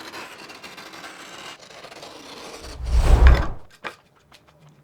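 A fine blade knife scrapes and cuts across dried joint compound on drywall, a soft rubbing rasp that builds to a louder, rougher scrape before a few faint taps, close by with no talking.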